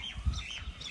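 Pigeons at a rooftop loft make a short, close burst of low calls and chirps lasting under a second, with no talking.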